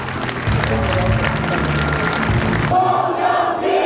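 Crowd noise and clapping fill a hall at a Democratic Party regional delegates' convention, loud and continuous, with music or chanting underneath, then cutting off abruptly toward the end as a voice begins over a quieter room.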